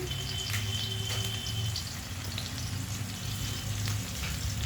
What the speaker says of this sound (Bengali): এবার পেঁয়াজ রসুনকে আমি খুব ভালো করে লাল লাল করে ভেজে নেব